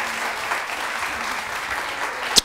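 A studio audience on a Turkish daytime TV show applauds loudly and continuously to welcome a father onto the stage, a dense wash of clapping hands that ends with a sharp louder clap.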